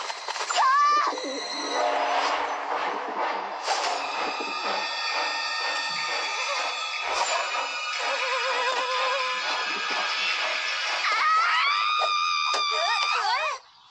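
Pigeons calling and cooing close by over a busy, noisy background, with a rising whinny-like cry near the end.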